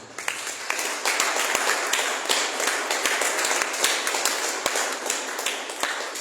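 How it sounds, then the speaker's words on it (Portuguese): Congregation applause in a church, a broad dense wash of many hands clapping at close range with scattered sharper claps, steady and sustained throughout with no talk over it. "Você está entendendo que é uma salva de palmas para Jesus?"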